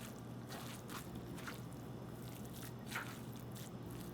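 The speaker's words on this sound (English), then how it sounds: "So hand is better when you mix this because" Squishy, wet squelching of kimchi dumpling filling being mixed by hand, close and steady, with soft repeated squeezes over a low background hum.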